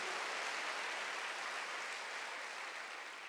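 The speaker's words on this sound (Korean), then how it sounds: "박수." Steady applause from a church congregation during a Sunday worship service, a dense, even wash of many hands clapping at once, fairly loud throughout and slowly easing near the end, with no voices over it.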